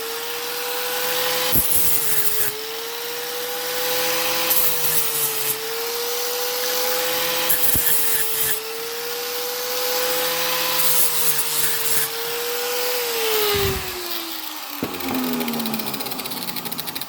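An angle grinder fitted with a wire wheel and no guard scours a car body in a steady, loud, continuous whine with slight pitch dips and occasional knocks, and no voices.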